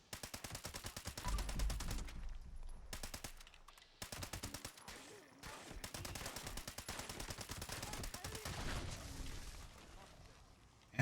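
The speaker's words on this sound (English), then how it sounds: "They were shooting me with a radium rifle" Rapid radium rifle gunfire in Fallout 76 rattles in long, fast automatic bursts with short pauses between them, loud and close.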